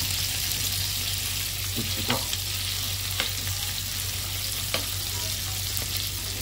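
Small Krishna river fish fry in a pan with a dense, steady, loud sizzle and a constant low hum beneath. A few faint clicks of turning come through, and no voices are heard.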